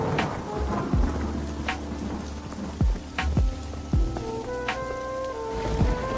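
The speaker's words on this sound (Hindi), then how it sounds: "तभी जोर जोर से बारिश शुरू हो जाती है" Heavy rain pours steadily and loudly throughout, while several sharp thunder cracks and booms strike at intervals over the downpour, with no voices.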